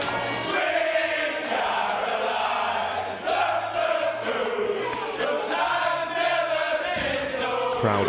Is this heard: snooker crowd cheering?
yes